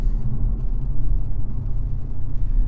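An Abt-tuned Audi RS5-R with a V6 engine is driven along a curvy road, giving a steady low engine rumble and road drone that holds level throughout, with no voices.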